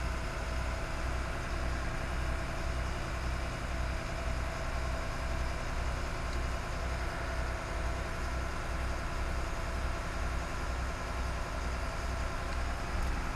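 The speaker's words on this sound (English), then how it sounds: "I can rev it up, run it up even quicker" A Stewart & Stevenson M1090 dump truck engine runs with a steady, low diesel drone as the hydraulic hoist raises the bed, holding an even level throughout.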